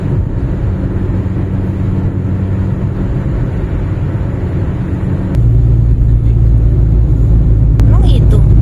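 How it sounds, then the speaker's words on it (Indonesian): Highway traffic on the Cipali toll road in Java, dominated by long-distance vehicles and big trucks, rumbles and drones loudly beneath people talking, with the engine roar swelling heavier partway through. "lalu lintasnya didominasi kendaraan jarak jauh dan truk-truk besar"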